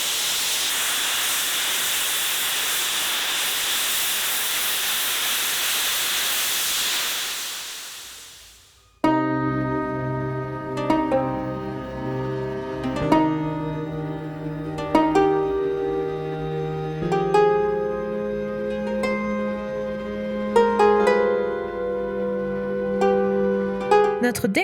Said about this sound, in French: Certains sont tellement puissants qu'il est presque impossible de les approcher sans se boucher les oreilles